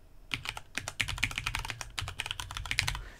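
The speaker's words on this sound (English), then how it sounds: "And I can just type my add-ons." Quick, irregular clatter of typing on a computer keyboard, keys struck in close rapid bursts with short pauses, near and alone.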